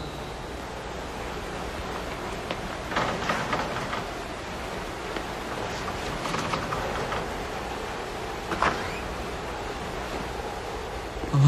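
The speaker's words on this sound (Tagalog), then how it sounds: "Lakas talaga ng ulan." Steady, dense wash of heavy rain filling the background, with a few faint surges and bumps; no talking.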